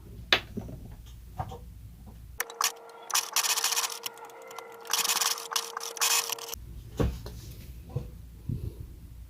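Sewing machine stitching a fabric face mask in a single straight-stitch pass: a steady, close mechanical whir running for about four seconds, framed by quieter handling sounds before and after.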